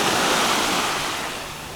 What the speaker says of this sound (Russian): Смотрите, какое спокойное море сегодня.